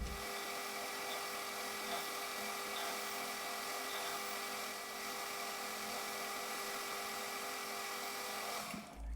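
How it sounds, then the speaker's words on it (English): A metal lathe parts off a workpiece to length for a Cub Cadet mower repair, giving a steady, continuous whine with a faint scraping cut that runs alone and then stops abruptly at the end. "Then I have to put it back in the lathe to part it off to length."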